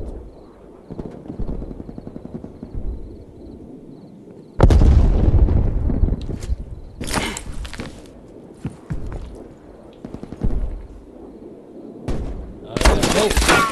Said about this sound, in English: Watch this hip fire.